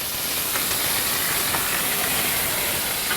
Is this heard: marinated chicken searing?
yes